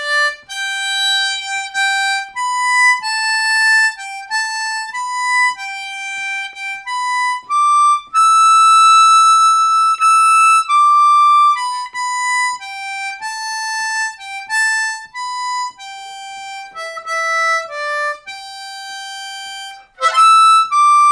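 A melody played on a G harmonica, Auld Lang Syne in first position: steady, clear reed notes held and moving stepwise for about twenty seconds, loud and close, with no talking.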